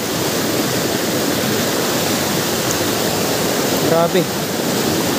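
A powerful, deep waterfall roars as a loud, steady wash of rushing water that fills the whole scene without pause, and a voice briefly exclaims near the end.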